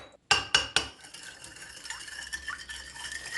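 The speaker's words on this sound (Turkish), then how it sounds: "Sıvı malzemelerimi iyice karıştırıyorum." Olive oil, egg, sugar and salt stirred in a bowl with a utensil: a few sharp clacks against the sides, then a quieter, continuous swishing and scraping up close, no voices.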